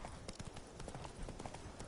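The horse Roach gallops in The Witcher 3, its hooves beating in a fast, steady clip-clop rhythm that stays close and continuous.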